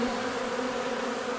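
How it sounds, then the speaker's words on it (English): Honeybees swarm around the entrance of a backyard beehive, making a dense, steady, close buzz with no voices. "there's so many bees coming and going"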